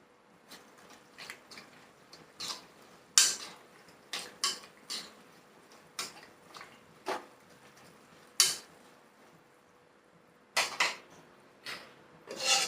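A spoon stirs curry ingredients with green chillies and turmeric in a metal pot, giving sharp irregular clinks and scrapes at uneven intervals, fairly close and otherwise quiet.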